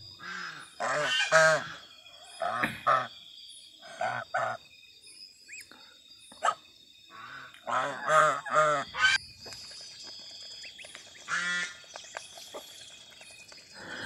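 Bengal and keling geese honking in a run of loud, nasal calls in clustered bursts with short pauses, close by, while someone talks quietly now and then.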